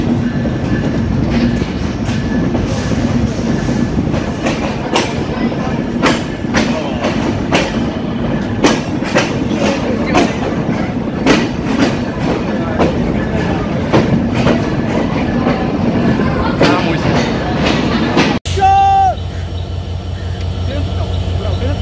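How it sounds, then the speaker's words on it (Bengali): The Khulna-bound Sundarban Express rolls into Jessore Junction, its wheels clattering loud and close in a rhythmic clickety-clack with faint talk, before an abrupt cut. "খুলনা অভিমুখী সুন্দরবন এক্সপ্রেস যশোর জংশনে প্রবেশ করলো।"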